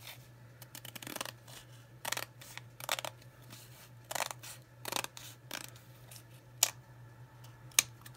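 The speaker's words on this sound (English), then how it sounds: "So I'm gonna go ahead and cut along there." Close, quiet snips of scissors cutting along a line while decorating a Dollar Tree frame, spaced irregular clicks and crunches over a faint steady hum, no talking.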